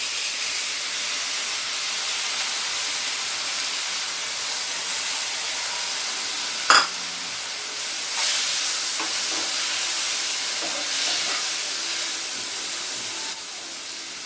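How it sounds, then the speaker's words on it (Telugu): Moong dal fries in ghee in a pan for payasam, a steady soft sizzle and hiss with a few faint stirring scrapes and clicks, close and continuous. "ఇప్పుడు ఇది ఉంది కదా పెసరపప్పు, దీన్ని పెనంలో నేతిలో వేపాలి."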